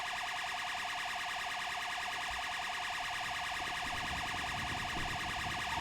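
Police car siren in the video game GTA V on a British police roleplay server, a loud continuous wailing tone cycling evenly throughout with no talk over it.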